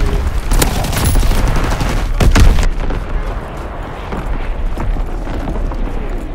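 Artillery barrage in a video game capture-the-flag match, a loud rolling salvo of heavy booms and crackling impacts for the first few seconds that fades to a rumbling tail.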